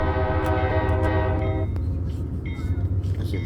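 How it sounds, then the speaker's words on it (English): A train rolls past right alongside at a rail yard in Cicero on the BNSF system, its loud sustained multi-tone horn blaring for over a second before the horn drops away, leaving the rumble of the cars and brief squealing tones. "I see the trains right next to us."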